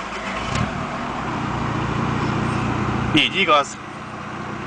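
A VW Golf IV turbodiesel idling steadily after starting, a constant mid-range engine drone close by, with someone speaking briefly over it near the end.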